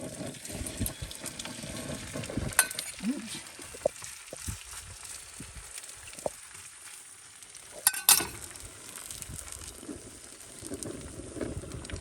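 Bacon frying in a pan at a bush camp during outdoor breakfast cooking produces a soft, steady sizzle with a few scrapes and clatters over outdoor background noise.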